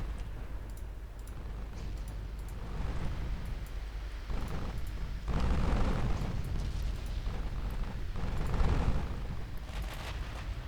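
Naval cruiser gunfire in the video game Ultimate Admiral Dreadnoughts, a series of deep rumbling booms and rolling blasts that swell and fade over a low steady drone, with faint clicks.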